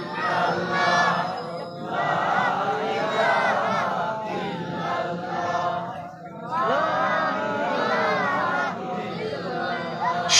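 A large crowd at an Islamic sermon gathering chanting the zikr "La ilaha" in unison, loud and close, with rising and falling voiced phrases that swell in waves and a brief dip midway.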